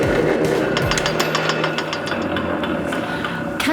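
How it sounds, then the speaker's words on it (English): A piercing tool machine cutting three slits into metal fork blanks runs with a steady mechanical hum and a rapid train of sharp clicking impacts, loud and close, with no voices. "It's called a piercing tool, and it cuts 3 slits into the fork."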